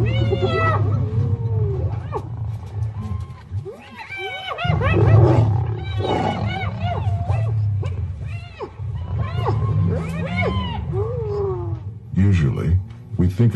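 A pack of hyenas mobbing lions on open grassland gives repeated rising whoops and wavering cries, loud and overlapping in bursts, with deep growls underneath.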